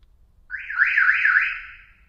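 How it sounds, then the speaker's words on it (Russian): A Scher-Khan Logicar car alarm gives one long warbling beep during programming, loud and close, rising sharply then wavering steadily for over a second before fading. "если такой длинный гудок, значит из меню в программировании вышел"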